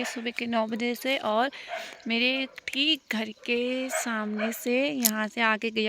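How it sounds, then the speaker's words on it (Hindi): A dog barks and yips repeatedly in a rural forested area of Almora, close by and partly under someone talking steadily. "कुत्ता भौंक रहा है"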